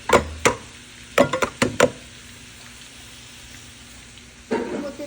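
Meat with garlic, cardamom, mace, garam masala, cinnamon, coriander and cumin stirred in a pan: a few sharp spoon knocks and scrapes in quick bursts, then a low sizzle and another scraping burst near the end.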